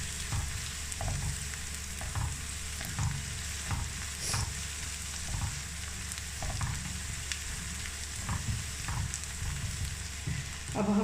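Ginger garlic paste sizzles and fries in a pan while a utensil stirs it, with steady crackling throughout and soft scraping strokes at a regular rhythm, close and moderately loud.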